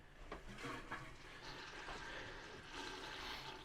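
Fifth wheel RV toilet flushing during winterizing, a rushing, gurgling swirl of water that swells and ebbs over a few seconds, close and fairly quiet, with no talking.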